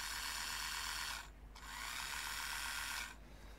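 A small Tamiya electric handy drill whirs loudly in two bursts, a steady high motor whine that stops abruptly when the trigger is released, then starts again and stops.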